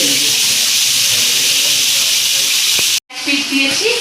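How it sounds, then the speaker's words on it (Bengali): Fish frying in a pan as a korma is made gives a loud, steady, close sizzling hiss. Near the end it cuts out briefly and then comes back. "ভালো করে মাছটা আমি ভেজে নেব"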